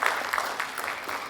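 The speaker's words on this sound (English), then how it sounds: "Huge round of applause everyone." Audience applause at the TiECON Chandigarh 2026 entrepreneurship conference, a steady wash of many hands clapping, moderately loud and continuous through the whole short stretch.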